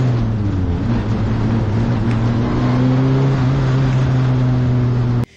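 A Formula Renault race car accelerates hard from the driver's seat, a loud, steady engine drone with a rising, strained tone that holds for several seconds and then cuts off abruptly.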